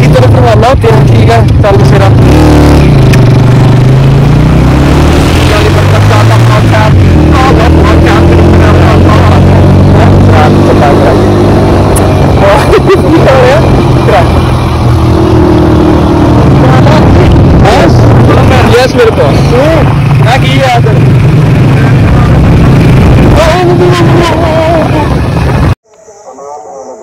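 Scooters ride along the road toward home, their engines droning steadily under heavy wind buffeting against the microphone, with people talking over the ride until the sound cuts off abruptly near the end.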